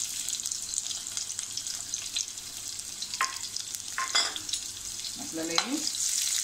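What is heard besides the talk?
sautéing onion with mustard seeds in a pan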